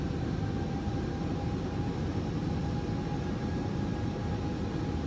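Airbus A321 engines in a flight simulator game, a steady loud broadband jet roar with faint whining tones held over several seconds, no talking.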